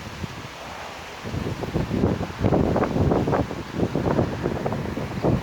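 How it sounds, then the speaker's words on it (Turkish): Gusty seaside wind at Büyükçekmece buffets the microphone in steady rushing waves, loud and close, with no voices. "Rüzgarlı bir gün parçalı bulutlu."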